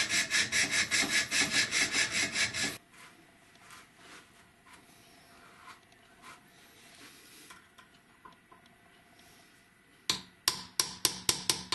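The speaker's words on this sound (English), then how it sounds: "I need to cut some of the end off of here so I got some to bend" Hand saw cutting off the end of a soft wooden piece for a snaphaunce musketoon build: a loud run of rapid, regular strokes, then a long quieter stretch of faint scraping, and a final burst of sharp, separate strokes.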